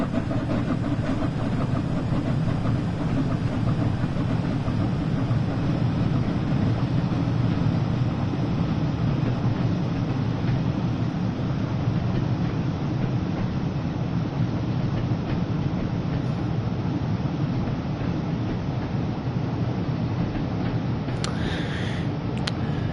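A Flying Scotsman steam locomotive in Train Sim World 4, running at full power on the West Somerset line: a steady, loud rumble and roar that carries on throughout with no talk over it.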